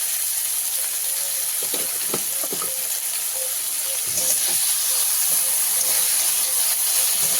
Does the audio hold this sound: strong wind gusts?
no